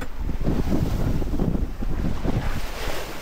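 Wind rushing steadily past a sailboat heading east off Menorca in a force 4 breeze gusting 5, a broad, continuous roar with water and wave wash underneath, close to the microphone and fairly loud throughout.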